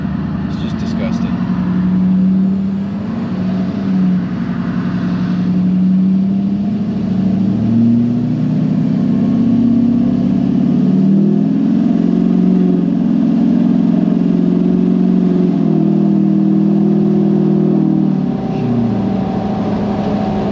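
Duramax diesel truck engine revving, a loud sustained low rumble with rising and falling pitch over about twenty seconds, steady throughout before easing near the end.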